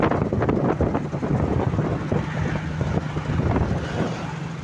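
Steady wind buffeting the microphone, a loud continuous rumble with gusty low roar throughout, no voices.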